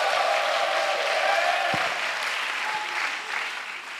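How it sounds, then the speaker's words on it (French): Congregation at a 2024 national missionary retreat in Côte d'Ivoire applauding and acclaiming Jesus Christ, a dense, steady wash of clapping throughout that tapers slightly toward the end. "Acclamation à Jésus-Christ."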